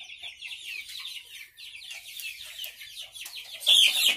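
Giant Indian game chickens cluck and chatter nearby, a stream of soft high clucks with a louder squawk near the end.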